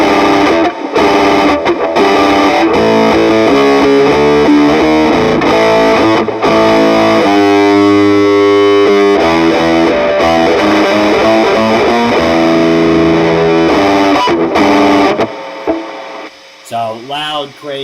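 Electric guitar played through a fuzz pedal at a low setting of 2, a thick, saturated distorted riff with sustained chords and picked notes, loud and continuous before tapering into a few quieter final strums.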